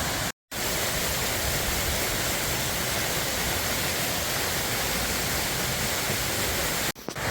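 Water spills steadily from a Renaissance garden fountain fed by mountain runoff, a loud, continuous close rush with a brief gap near the start and no voices.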